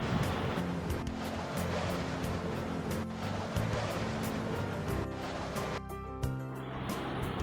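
Continuous roaring rush of wind, steady and fairly loud, with gusty swells and a few sharp knocks and clicks scattered through.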